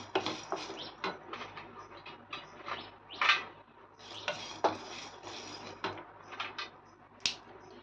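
Quiet scraping and clinking as a spoon stirs dry-roasting whole spices around a pan, with irregular strokes and a faint sizzle underneath.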